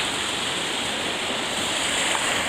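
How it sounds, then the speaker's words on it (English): A small mountain brook tumbling down a cascade, a steady, dense rushing of water, loud and close with no talk. "Neat little cascade right here."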